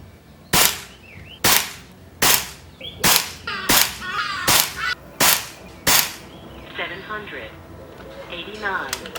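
An Air Venturi Nova Vista air rifle fires H&N Barracuda 15-grain pellets in about eight sharp, loud cracks at a fairly even pace, each ending in a quick decay, with a voice faintly under the shots.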